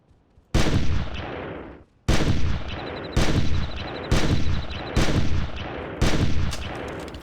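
Six heavy gunshots from the hunting game Carnivores+ boom out one at a time, loud and close, each followed by a lingering rumbling tail, spaced roughly a second apart after a short quiet start.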